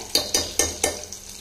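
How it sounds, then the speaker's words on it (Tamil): Onions sautéing in a pan while being stirred, four or five regular scraping strokes of a spatula against the pan over a soft sizzle, close and moderately quiet with no talking. "வெங்காயம் வந்து நல்லா வதங்கிடுச்சுங்க."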